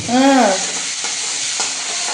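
Garlic and green chilies fry in hot oil in a village kitchen, giving a loud, steady crackling sizzle throughout. A brief rising-and-falling tonal sound opens it.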